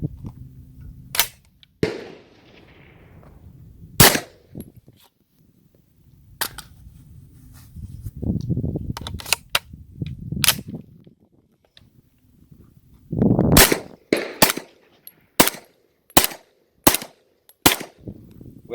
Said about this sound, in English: We're going to go ahead and try some rounds here.